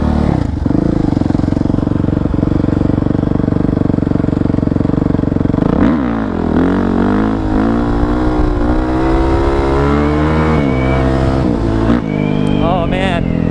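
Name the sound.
dirt bike engine while riding wheelies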